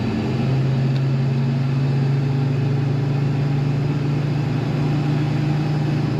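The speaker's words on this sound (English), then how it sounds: "Great rumble when you hear this idling, which you just did." A 1972 Chevrolet K20 Cheyenne 4x4 lifted truck idles with a low, steady engine rumble that stays even and close throughout, with no voices over it.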